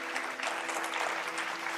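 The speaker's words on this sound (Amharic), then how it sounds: "ለሄለን ዲኮር ሞቅ ያለ ጭብጨባ" Dense, sustained applause fills a television game-show studio for a sponsor, a steady wash of many hands clapping together at even loudness throughout, with no distinct pauses.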